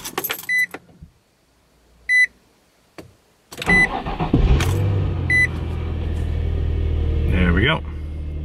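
A few chimes and clicks, then a 2003 Infiniti G35 engine cranks and catches after a camshaft position sensor replacement, settling into a steady, close rumbling idle.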